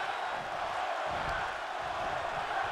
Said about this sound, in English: And you hear the crowd one more time.